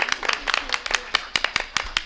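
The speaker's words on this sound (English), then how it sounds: "We give everybody a round of applause." Scattered clapping from a small group at a school board meeting, applauding girls from the band and orchestra, with individual claps landing in a loose, uneven rhythm.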